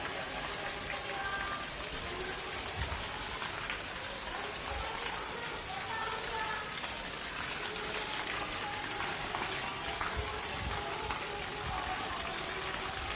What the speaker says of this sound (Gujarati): સતત વરસાદ વરસી રહ્યો છે